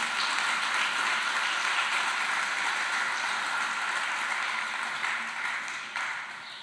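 A church congregation applauding during a sermon, a dense sustained wash of clapping from many hands that stays loud and even for several seconds before tapering slightly.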